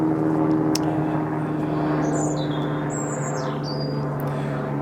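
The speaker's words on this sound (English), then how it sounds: "Noisy helicopter going over." A noisy helicopter flies over a garden, making a steady droning hum with a low tonal throb, while birds chirp briefly in the background.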